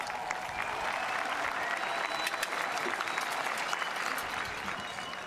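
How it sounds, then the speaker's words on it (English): Applause from a high school graduation audience for the class of 2024, an even, continuous roar of many hands clapping at a distance in a large venue, steady throughout with crowd murmur beneath. "Big round of applause."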